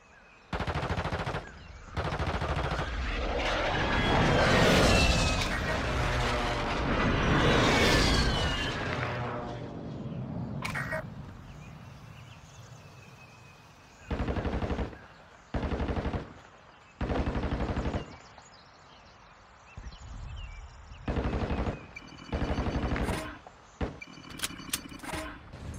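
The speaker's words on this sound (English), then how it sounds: "Friendly airstrike in the AO." A friendly airstrike and gunfire in Warzone Mobile open with a loud, dense roar of rapid automatic fire and blasts, then fall to separate short bursts of machine-gun fire spaced a few seconds apart.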